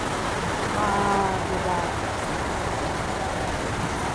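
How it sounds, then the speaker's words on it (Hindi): Rain falls steadily as a dense, even hiss that continues without a break, with a faint voice briefly audible underneath. "बारिश बारिश खाली वर्षा"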